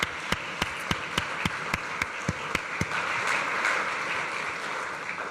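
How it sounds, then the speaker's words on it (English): Audience applause at a Nelson Mandela Day commemorative event at a university: a few crisp, evenly spaced claps at first, then a full wash of many hands that swells and carries on steadily to the end. "could we please just give a round of applause to the Nelson Mandela Day Commemorative Committee"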